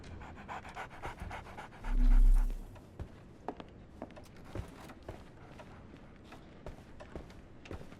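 A dog in the video game Sherlock Holmes the Awakened pants in a steady, rapid rhythm close by, with a brief low thump partway through and a few light taps around it.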